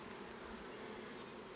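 Honey bees hum in a steady, faint, continuous drone around hive frames pulled from a beehive during the middle of the day, with no voices present.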